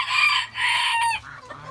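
A rooster crows up close, a loud, drawn-out cock-a-doodle-doo lasting over a second, followed by a few softer clucks.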